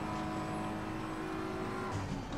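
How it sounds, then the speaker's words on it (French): Race car engine in a racing video game played on a Cammus LC100 pedal set, a steady loud drone that holds through a hard braking zone, with a faint tire squeal and a slight pitch drop near the end. "on va tenter un vrai gros freinage là."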